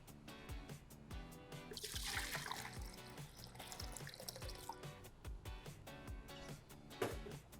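Water pouring and trickling into a container while measuring four cups for a brine in a kitchen, a close continuous splashing stream with dripping, heard alone.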